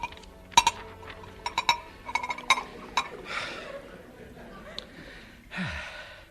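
Glass clinks sharply several times as cream soda is poured into a glass in an old-time radio comedy scene, a few quick ringing taps spaced over a couple of seconds, followed by a voice sighing and breathing.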